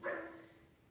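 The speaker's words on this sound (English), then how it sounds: "Sorry that my dog's just started barking." A single short dog bark indoors that rings out and fades, heard alone at moderate distance without any talk over it.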